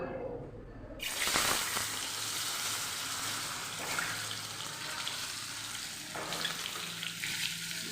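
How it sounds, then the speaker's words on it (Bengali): Eggs dropped into hot oil in a home kitchen pan, a loud sizzle erupting about a second in and frying steadily throughout, close and continuous with no voices. "ওদিকে দেখো তেলও গরম হয়ে গেছে ডিমের তো চলো ডিমগুলো দিয়ে দিই"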